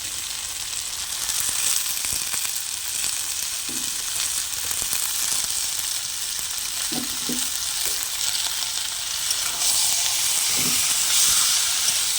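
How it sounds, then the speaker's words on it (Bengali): Taro and spinach are sautéed with spices in a pan, making a continuous sizzling fry with steamy hiss and a few soft stirring knocks against the pan. "মশলার সাথে ভালোভাবে আমি কষিয়ে নেব এর মধ্যে দিয়ে দেবো পালং শাক"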